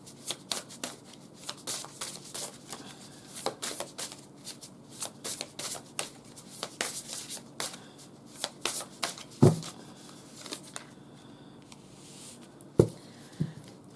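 Large oracle cards are shuffled by hand in a quiet room, giving a run of soft, quick riffling and slapping bursts with a few sharper knocks.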